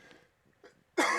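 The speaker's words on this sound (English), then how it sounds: "I'm going to cough real quick." A single sharp, loud cough bursts out near the end after a few quiet breathy sounds.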